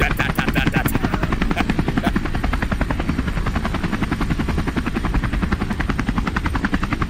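Helicopter in the video game Into the Radius 2 beating steadily throughout, a loud, close, continuous rotor chop with a fast even pulse and engine whine, no voices over it.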